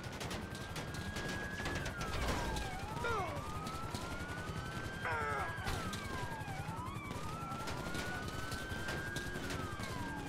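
Police open fire during a GTA 5 chase in Sandy Shores against an armored SUV with bulletproof windows, rapid gunshot bursts crackling under loud, wailing police sirens that sweep up and down throughout.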